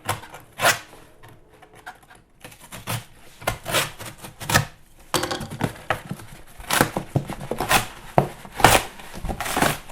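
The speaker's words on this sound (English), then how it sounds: "I think I'm going to have to cut the box down the side." A blade slices down the side of a large cardboard box holding a Rotora big brake kit, giving close, irregular cutting strokes with crinkling and tearing of cardboard and no talking.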